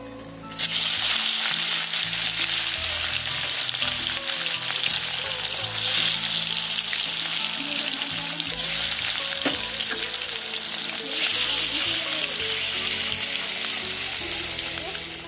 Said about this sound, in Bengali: আর এদিকে কড়াই বসিয়ে দিয়েছি, মাছ করব